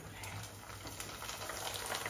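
Papad frying in hot oil in a home kitchen, a steady dense sizzle holding at an even level across the whole moment.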